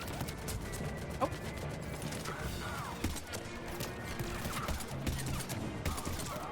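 Gunfire from the sci-fi shooter game Mass Effect crackles through a dense, busy mix of game sound, with a few sharper shots standing out among the steady battle noise.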